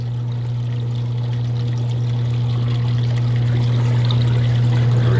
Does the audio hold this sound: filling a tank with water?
yes